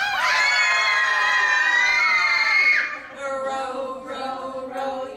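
Children scream together in a long, loud, high-pitched shriek during a Row, Row, Row Your Boat sing-along, cutting off abruptly, followed by quieter excited shouting.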